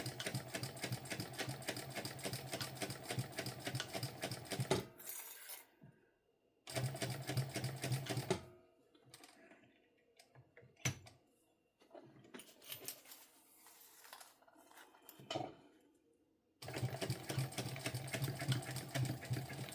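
Sewing machine stitching a sling bag, running in fast even bursts of rapid needle clatter, stopping and restarting several times with quieter handling sounds in the pauses; close and fairly soft.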